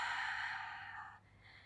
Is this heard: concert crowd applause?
no